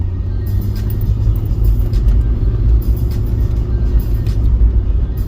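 A Jeep rolls past on the road with a steady, loud low rumble of engine and tyres that holds evenly throughout, no voices over it.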